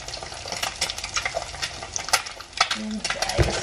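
An egg frying in a pan at home, a steady close sizzle with spitting pops and scattered clinks of a utensil against the pan, under someone talking.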